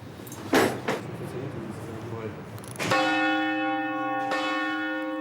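Muffled knocks and clatter give way to a loud church bell strike, mechanically activated during a bell inspection, with a long ringing tone, then a second strike sustaining to the end.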